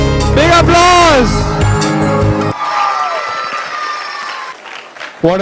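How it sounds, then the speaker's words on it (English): An audience claps after a group dance and mime performance, with applause and whoops rising under loud amplified chanting, then continuing more steadily once the chant stops. "Big applause!"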